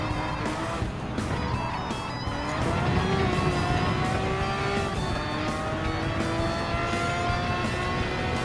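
A Ferrari 330 P4 '67 race car in Gran Turismo 7 laps Autodromo Nazionale, its engine holding a loud, steady high-pitched drone with climbing gear tones and a hint of tire squeal throughout.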